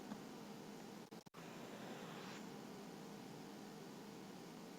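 Generated pink and white noise test signals play together as a loud, steady broadband hiss, interrupted by two brief dropouts near the start before continuing unchanged.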